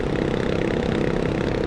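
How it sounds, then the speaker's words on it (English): A vehicle on the Dempster Highway idles with a loud, rough exhaust, giving a dense, steady rumble close by with no voices. "if your exhaust wasn't loud before, it is now."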